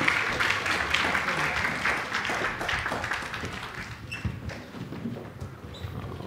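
A church congregation at a Korean Sunday morning service gives a round of applause, steady clapping that gradually thins out and fades, with a few scattered claps and a faint voice near the end.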